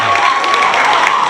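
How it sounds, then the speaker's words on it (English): A crowd in an audience applauds loudly and steadily, a dense wash of clapping that fills the whole brief moment. "that applause is a little weak. Can we make it really loud here or what?"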